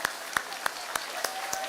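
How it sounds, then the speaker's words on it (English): At a county 4-H rabbit show, a handful of people clap for the mini exhibitors, six sparse, evenly spaced claps in a quiet hall. "Let's give them a round of applause."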